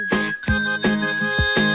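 A bicycle bell rings in a children's Hindi rhyme, five bright metallic dings in a steady rhythm, loud and close over a bouncy musical backing.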